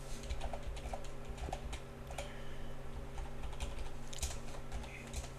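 Java code being typed on a computer keyboard for an array tutorial, a steady patter of close, moderately loud keystrokes with a low constant hum running beneath.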